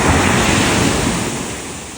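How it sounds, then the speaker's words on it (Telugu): Ocean waves roll onto Vizag beach in the early morning, a loud, close wash of surf mixed with wind buffeting the microphone, slowly easing off. "ఈ అలల సౌండ్కి"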